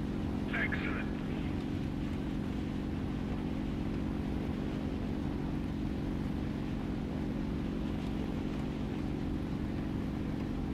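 An Fw-190A-4 piston engine drones steadily in a flight video game, a constant low rumble filling the whole stretch, with a brief higher blip early on and no clear talk over it.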